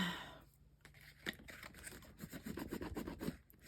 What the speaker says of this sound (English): I'm going to burnish it like a crazy woman